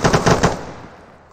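Two quick bursts of gunfire from a soldier's rifle in the ArmA3 military shooter game, sharp and loud up front, then a short fading tail with no talking.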